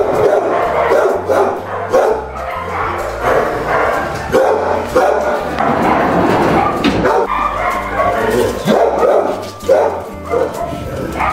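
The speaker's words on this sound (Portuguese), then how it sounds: "os cachorros estão latindo do outro lado" Several dogs bark and yip repeatedly, loud and close, with whimpers mixed in and bursts coming in irregular clusters throughout.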